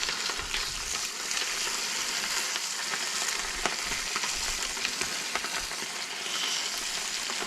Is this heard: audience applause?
no